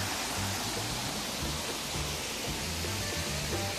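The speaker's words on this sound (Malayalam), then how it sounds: "ഈ വെള്ളം വീഴുന്ന സ്ഥലമൊക്കെ കണ്ടോണം." A waterfall roars nearby, a dense, loud and steady rushing of falling water that fills the whole clip with no pauses or talk.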